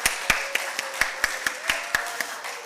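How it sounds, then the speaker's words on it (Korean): A church congregation claps during a Sunday worship service, the claps landing in an even rhythm of about four per second, crisp and moderately loud against a quiet background. "우리 성령님 하나님 앞에 우리 감사의 박수 다시 한번 올려드립니다."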